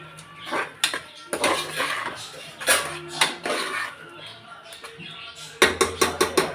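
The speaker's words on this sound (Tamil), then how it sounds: "பட்டை கிராம்பு கிராம்பு ஏலக்காய் எல்லாம் நிறச்சி வச்சுருந்ததை இவ்வளோ போட்டு கிண்டணும்" A metal spoon stirs whole cinnamon, cloves and cardamom in a cooking pot for mutton biryani, making irregular, close scraping clanks against the pot with a few sharper knocks.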